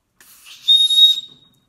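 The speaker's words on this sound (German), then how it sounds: "Ja, haben wir hier also eine Notfallpfeife, die auch funktioniert, sehr gut." Emergency whistle on a paracord firestarter bracelet blown once, a shrill, close, piercing tone lasting about a second, preceded by a soft breathy hiss.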